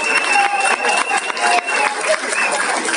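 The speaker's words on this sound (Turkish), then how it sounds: "Kendinizi alkışlıyorsunuz. Ben de sizi alkışlıyorum." Students at a science high school clap together in a steady burst of applause that swells and dips over a few seconds, with some voices mixed into the room noise.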